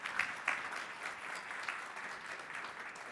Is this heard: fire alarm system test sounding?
no